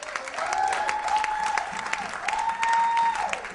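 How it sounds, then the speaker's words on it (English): An audience at a late-night show taping applauds for several seconds, a steady spread of clapping heard at moderate loudness while a voice with a held, wavering tone carries over it. "you hear like people applauding"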